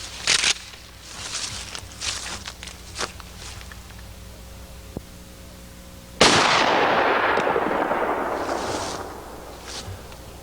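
A shotgun fires slugs at targets 100 yards away outdoors: several sharp, loud reports early on, then one big close blast followed by a long rolling echo.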